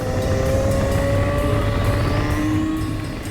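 BMW S1000RR M package superbike being ridden on tarmac, a steady engine drone with a rising pitch under accelerating revs, loud and continuous with wind rush throughout.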